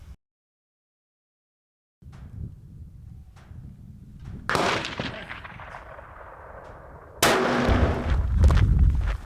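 A Browning X-Bolt II rifle in 6.8 Western fires two sharp shots, one mid-clip and a louder, closer crack near the end, each with a lingering rolling echo, after a stretch of silence and low background rumble.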